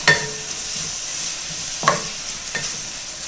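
A spoon stirs coriander and mint leaves into a sizzling egg biryani masala in a pan, giving a steady frying hiss with a few soft scraping strokes, close and unaccompanied by talk.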